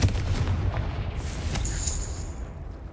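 The Confringo blasting curse explodes in Hogwarts Legacy: a heavy, rumbling boom right at the start, then a lingering roar of debris and rumble, with a thin high whine near the end.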